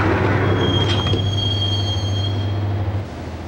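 A subway train runs along its rails in the 2001 video game Max Payne on PS2, with a loud steady rumble, a squealing wheel tone and faint clatter that drops off near the end.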